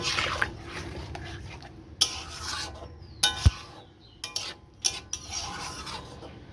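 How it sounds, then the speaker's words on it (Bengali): Turmeric is stirred into chicken in a pan for dudh chicken, giving a steady wet scraping and squelching rumble with a few sharper clinks of the utensil against the pan, close and without talk. "এগুলোকে ভালো করে মিশিয়ে নেব।"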